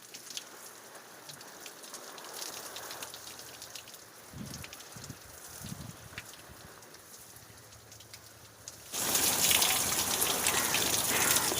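Water sprays onto potted plants in a home garden, a soft steady patter that suddenly becomes a loud, close, hissing gush for the last few seconds.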